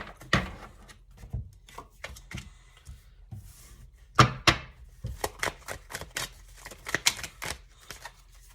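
Cards being shuffled in repeated quick riffles and snaps, crisp and close, with short pauses between bursts and no talking.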